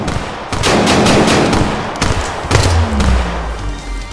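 Gunshots crack in a rapid burst of close, loud reports, several sharp bangs in quick succession followed by a deeper thump and rumble.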